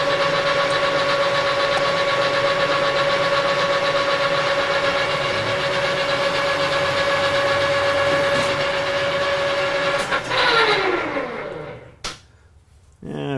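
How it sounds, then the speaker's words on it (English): A metal lathe turns 4140 steel with a carbide insert, giving a loud steady machine drone with a sustained whine throughout before the machine winds down and goes quiet near the end. "my lathe's not great on the top end there as far as listening to it"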